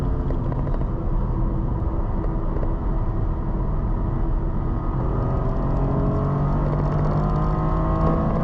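A Toyota GR Corolla engine drones and accelerates steadily, heard from inside the car, loud and continuous, with rising revs and road rumble throughout.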